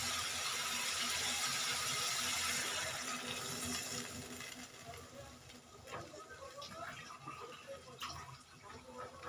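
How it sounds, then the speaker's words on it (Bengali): Water goes into a pan of frying cauliflower and potato, giving a rushing hiss and splash that fades after a few seconds into quieter bubbling and scattered clinks. "এবার এর মধ্যে আমি একটু জল অ্যাড করে দেবো।"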